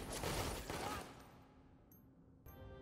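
The Deadeye's Somersault Shot skill fires in the game Lost Ark, a dense, rattling burst of gunshots that cuts off after about a second and leaves a faint, quieter tail.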